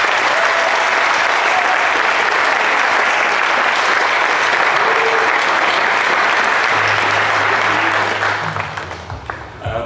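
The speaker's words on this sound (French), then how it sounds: "Un tonnerre d'applaudissements pour Marlène Petit." Thunderous audience applause following a theatre performance, dense continuous clapping held loud for nearly ten seconds before tapering off at the close.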